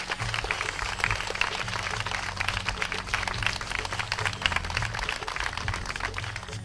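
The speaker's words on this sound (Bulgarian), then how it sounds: "Аплодисменти." Audience applause at a folk festival awards ceremony, steady dense clapping filling the whole stretch with a low music or hum bed underneath, fairly loud and continuous.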